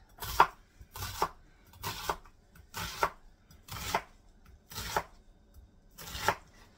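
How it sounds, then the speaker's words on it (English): Onions sliced with a knife on a cutting board for an Amish golden stew, seven crisp, evenly spaced chops about one second apart, close and clear with no talking. "we're going to slice up these onions"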